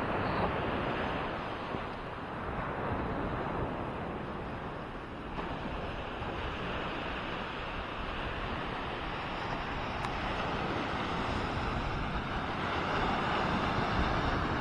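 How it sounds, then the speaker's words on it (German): Ocean surf rolls steadily onto the beach at Maspalomas, Gran Canaria on a calm morning, a continuous broad wash of breaking water mixed with wind noise against the microphone. "So, Wellengang auch wieder normal."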